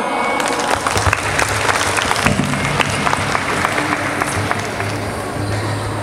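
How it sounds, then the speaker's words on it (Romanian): Loud, sustained applause from a crowd at a national singing festival in Craiova, dense clapping with some sharper individual claps and a low background hum, lasting several seconds. "Haideți să o aplaudăm!"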